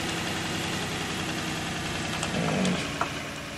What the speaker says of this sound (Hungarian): Megpróbáljuk megindítani az MTZ-t.